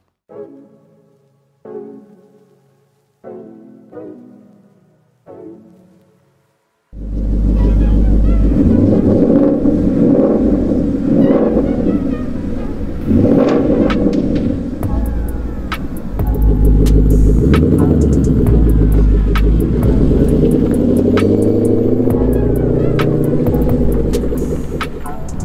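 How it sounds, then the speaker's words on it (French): A Ford Mustang GT rated at 420 horsepower opens with a few separate knocks, then its engine fires into a loud, steady, throbbing rumble that continues close up while the car is driven. "Donc, Scott, on va faire un tour avec l'auto."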